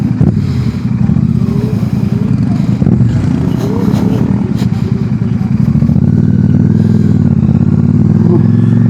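A group of motorcycles, including a Harley and an Aprilia, setting off together on a foggy morning ride, engines rumbling loud and close with revving and steady droning, while a rider talks over the noise.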